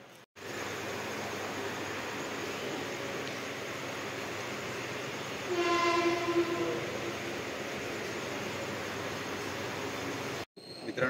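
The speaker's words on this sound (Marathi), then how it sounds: "फर्स्ट टाईम चाललो आहे दिवा ट्रेननी" Diva passenger train rolling along the rails, a steady broadband rumble throughout with a brief brighter tonal whine near the middle, cut off abruptly at the end; no talking.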